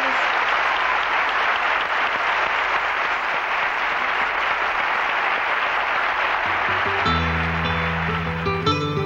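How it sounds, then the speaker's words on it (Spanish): Loud, sustained audience applause in a television studio during a copla music show, a dense wall of clapping from a large crowd, with music starting up as it continues. "no lo hacemos sin darte otro aplauso fuerte"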